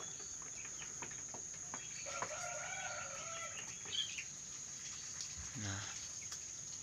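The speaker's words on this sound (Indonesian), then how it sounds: "Nah, ini burung pada udah turun." Birds flutter down to feed in an aviary, with soft wing flaps and a few chirps and tweets over a steady insect-like hiss, all fairly quiet and distant.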